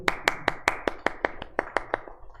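A classroom group claps in about a dozen sharp, evenly spaced beats, loud and close, with no talking over it.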